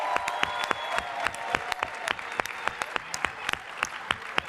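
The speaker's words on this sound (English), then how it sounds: "give yourselves a big hand clap for being an awesome audience." Applause from an audience at the closing celebration of the 2024 Mandela Washington Fellowship Summit, a dense, steady patter of many hands clapping throughout, with sharp individual claps standing out above the crowd.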